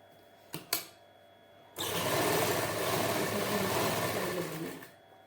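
An electric sewing machine runs in one steady burst of about three seconds while stitching the panels of a salwar, preceded by a couple of brief clicks and then stopping.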